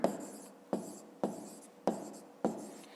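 Pen scratching across paper during a fifth-grade maths exercise, written out in five quick repeated strokes with short pauses between, close and clear, with no talking.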